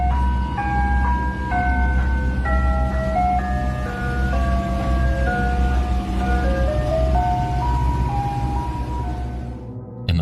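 Ice cream truck cruising slowly through a neighborhood late at night, its jingle playing steadily and loudly the whole time over a constant low engine rumble.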